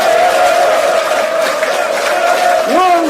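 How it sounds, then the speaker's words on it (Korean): A large crowd at an outdoor political rally roars with sustained cheering, shouts and clapping, loud and dense throughout with raised voices rising above the din. "크게 한번 박수 치고 환호해주시면 좋겠습니다"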